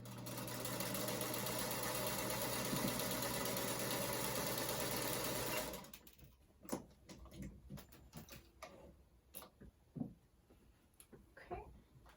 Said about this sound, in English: and sew that 1/4 inch seam.